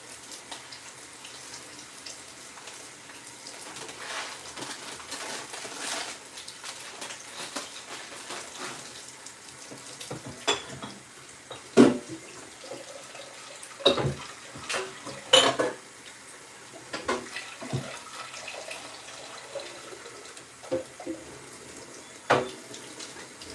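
Tap water runs into a pot for cooking Carolina rice in a home kitchen: a soft, steady stream broken by sharp clanks and knocks of the pot and utensils.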